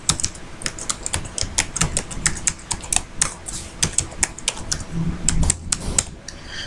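Fingers type an email address on a computer keyboard in a rapid, uneven run of close, crisp key clicks, with a low hum underneath and no talking.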